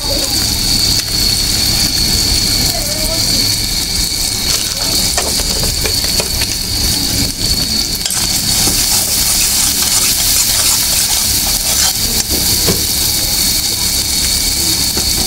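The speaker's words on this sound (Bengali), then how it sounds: "মশলা গুঁড়া করবো।" An electric grinder grinds spices with a loud, continuous whirring roar that holds steady throughout.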